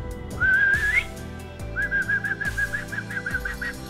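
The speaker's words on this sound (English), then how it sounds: "We got a whistle for the dog." A whistle blown to call a dog at a house in New Zealand, heard as one rising sustained tone, a pause, then a run of short repeated pulsed tones, fairly close and loud with no talking.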